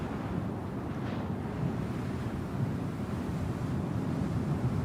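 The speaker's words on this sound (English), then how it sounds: "It's really windy here." Strong wind roars steadily in the video game Star Citizen, a dense, constant low rushing gust that fills the scene without pause and carries no talk.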